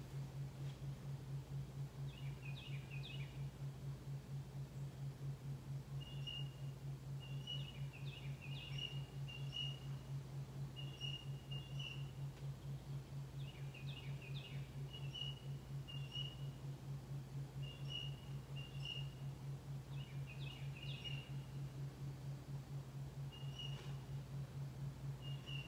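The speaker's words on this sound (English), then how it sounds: "Hopefully you can hear the sound of the birds." Birds chirp in short, repeated high-pitched phrases at a moderate distance over a constant low mechanical hum, recurring every few seconds during a quiet yoga class.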